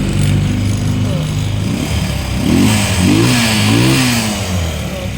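A running MD auto 200cc engine, just started, holds a steady mid-pitched hum and briefly rises and falls a few times as it revs, close and loud, while someone talks over it.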